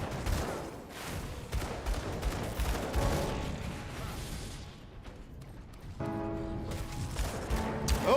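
Mortar fire in the action RPG Grim Dawn, a dense barrage of booming gunfire-like blasts and crashes under layered game effects, with a chiming tonal sound rising near the end.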